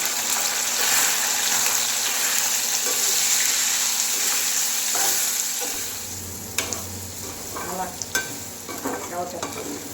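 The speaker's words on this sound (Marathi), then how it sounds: "आता आपलं तेल तापलं आहे, त्याच्यामध्ये आपण हे सोयाबीन परतवून घेऊ." Squeezed soya chunks fry loudly in hot oil, a dense, steady sizzle that eases partway through, followed by several sharp clicks and scrapes as they are stirred, with no speech.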